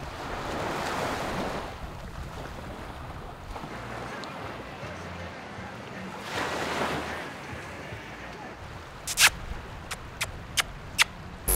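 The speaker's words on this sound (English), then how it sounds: "This is officially the most beautiful beach I've ever set foot on." Surf rolls onto the sand at Playa Norte on Isla Mujeres, soft washes of waves rising and falling with wind noise, then a few sharp clicks or knocks near the end; no talking.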